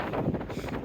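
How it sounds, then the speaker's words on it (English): Wind rumbles against the microphone in a steady, muffled rush of low buffeting noise. "Y'all going to have to excuse the wind today."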